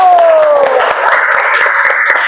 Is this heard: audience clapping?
yes